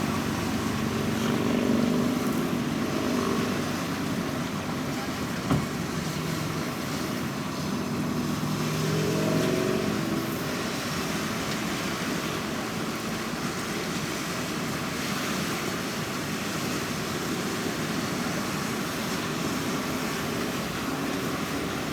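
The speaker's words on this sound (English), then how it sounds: "press the spin speed button until it goes to high speed spin and then press start. And it'll run really fast" An LG washing machine runs its high-speed spin cycle with a steady, whooshing, rumbling drone at moderate level, continuous throughout with no talking.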